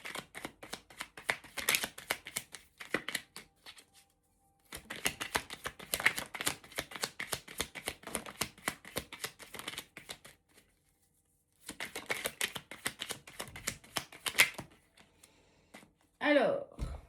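Cards shuffled quickly in three long bursts of dense rapid riffling and flicking, close up, with brief silent gaps between them and a short breathy vocal sound at the end.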